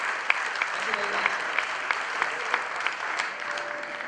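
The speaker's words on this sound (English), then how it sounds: "Big round of applause to each one of them." A crowd at an awards ceremony applauds steadily, claps blending into a dense patter, with a few louder claps standing out near the front.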